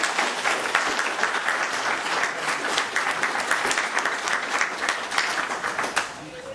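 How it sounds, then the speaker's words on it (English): Audience applause for donors at a physics lecture event, a dense steady roll of many hands clapping that holds for several seconds before tapering slightly at the end. "So let's give them a round of applause."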